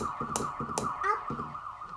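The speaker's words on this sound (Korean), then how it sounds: "이건 무슨 소리야? 경찰차." A steady siren tone wails continuously at moderate distance, with a few short percussive knocks and brief voice sounds over it.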